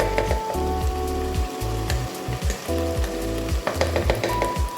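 Washed drumstick leaves drop into a hot pan for a Kerala-style curry and sizzle loudly and continuously up close, broken by occasional light knocks and taps of stirring.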